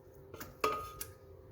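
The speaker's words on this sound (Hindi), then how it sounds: "ये हमने एक ब्लेंडर जग लिया है, इसमें हम ये तरबूज़ के पीस डालेंगे" Pieces of watermelon dropped into a blender jug land with a few faint knocks and clinks spread across a second or so.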